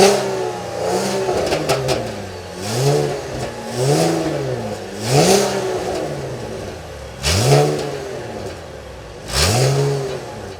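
A 2024 Chevrolet Camaro 3LT convertible, Collector's Edition, being revved repeatedly from idle, with about five or six rising and falling engine bursts that swell loudly and then settle back, close by and with no talking.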